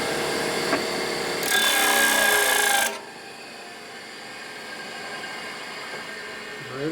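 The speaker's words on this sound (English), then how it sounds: "Okay, I'm going to actually grind it." Grinding on a 1950 Harley-Davidson panhead engine part, likely a rocker arm: a steady, loud abrasive rasp that swells harsher for a couple of seconds, then drops to a quieter continuous whir as contact eases.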